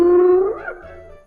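A hyena gives a single short howl that rises and bends in pitch before trailing off, close and alone.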